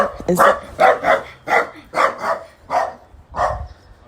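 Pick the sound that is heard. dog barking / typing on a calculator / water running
dog barking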